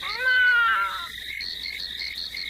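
A human voice imitates a cat with one drawn-out, wavering meow, close and clear. A thin high insect-like trill continues steadily in the background.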